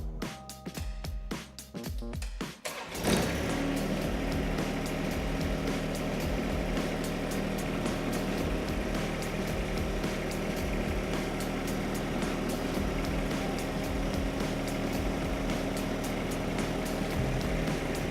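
A 1025 tractor drives in to pick up its loader. Its diesel engine rumbles steadily and close for most of the time after a few seconds of scraping and clunks.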